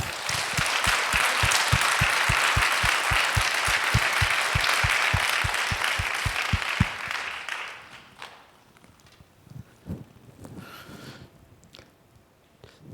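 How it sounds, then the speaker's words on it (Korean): A church congregation claps together in praise to God at an Easter revival meeting, loud, steady rhythmic clapping for about seven seconds, then fading to scattered sounds and quiet. "우리 하나님께 다 같이 영광의 박수 드립니다"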